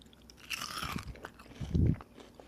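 Close-up crunchy bites into crispy fried Amish onion patties: a sharp crackling crunch followed by a heavier, muffled chewing crunch, quiet and intimate with no talking.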